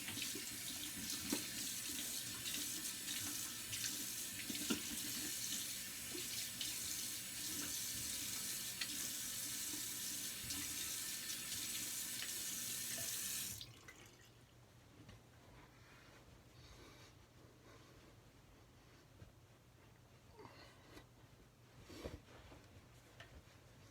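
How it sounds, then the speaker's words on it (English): Tap water pouring steadily into a sink to rinse alum off after a shave, a loud continuous splashing rush for about half the time, then it shuts off, leaving quiet room tone with small drips and clicks. "Alright, I'll wash the alum off."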